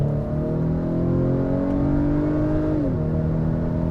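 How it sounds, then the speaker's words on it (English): Engine of a 2019 Acura RDX compact luxury SUV pulling hard under acceleration, a strong rising drone from inside the cabin that climbs in pitch, then dips briefly at a gear change and keeps building. "Listen to that engine."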